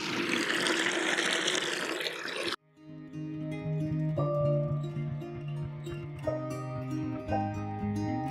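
Water pours from a caravan washing machine's drain hose into a bucket, a steady close splashing that starts abruptly after a short break and continues with a faint bubbling ring as the bucket fills.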